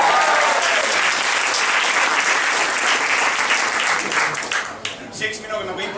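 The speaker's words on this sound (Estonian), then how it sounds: "Teeme aplausi!" An audience of over 100 people in a stuffy room at an improv comedy show breaks into sustained applause, dense clapping that gradually thins out toward the end.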